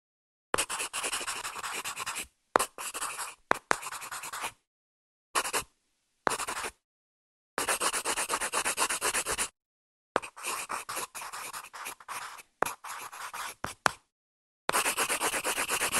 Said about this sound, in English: What sound does the line make on the paper?